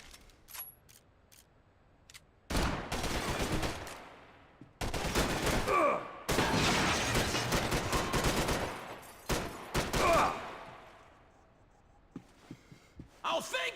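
Bursts of gunfire from the video game Max Payne 3 come in several loud, dense volleys separated by quieter gaps, with scattered single shots and clicks between them.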